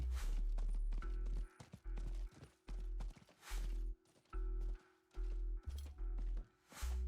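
Horse hooves in the game Diablo IV clopping in a steady, even rhythm of about a dozen beats, loud and close, with no voices.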